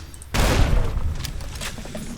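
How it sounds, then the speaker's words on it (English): An explosive anti-materiel rifle shot in Fallout New Vegas, a single sharp, heavy blast that booms and then rumbles down into a rough, lingering tail. "It's almost like a frag grenade explosion every shot"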